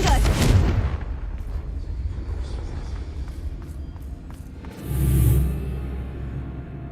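Confringo spell blast in Hogwarts Legacy, a loud burst at the start that fades into a rumbling tail, then a second swelling whoosh later, with a voice briefly heard over the game sounds.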